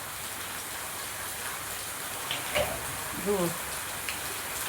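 Heavy rain pours down steadily in Surat, a dense constant hiss of drops on surfaces throughout, with a few faint voices briefly speaking over it.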